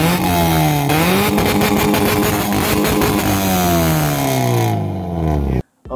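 A loud Honda Civic engine at an auto show revs hard, its pitch climbing and dropping through several throttle blips before cutting off abruptly near the end.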